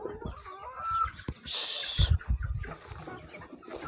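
Hens cluck in short, uneven bursts in a poultry farm shed, close up, with a brief bright rustle or flutter partway through and no talk.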